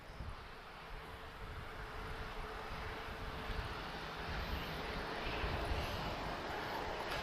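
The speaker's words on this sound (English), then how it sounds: "A seguir temos E320 a chegar" A TAP airliner arriving at Lisbon Airport, a broad distant jet roar swelling slowly and steadily louder over several seconds, faint and airy with wind noise and no talk.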